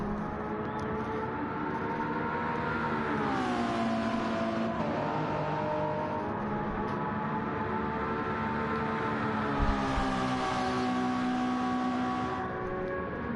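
A hybrid prototype race car hot-laps the Daytona circuit in a 24-hour endurance racing simulator video game, its engine droning continuously with rising and falling pitch as it works through the gears, steady and fairly close throughout.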